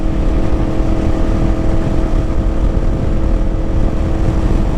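Yamaha MT-10 motorcycle ridden at steady cruising speed, a loud continuous engine drone with strong low rumble and steady harmonic hum, blended with broadband wind roar, unbroken and close throughout.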